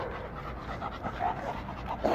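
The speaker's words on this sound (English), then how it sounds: "This one angry dog." A dog pants rapidly and breathily at close range in short rhythmic bursts, with a faint low growl-like rasp underneath and no clear speech.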